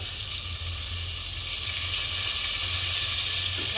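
Cumin, onions and green chillies fry in oil over a wood-fired stove, producing a loud, continuous, even sizzle close by with no pauses.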